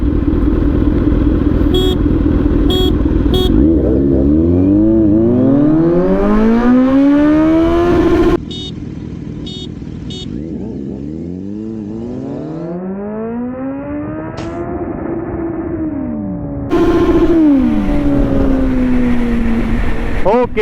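Two 948cc motorcycles accelerating hard at full power, engines climbing through the revs in repeated rising sweeps with brief gear-change drops, loud and close, with faint speech underneath.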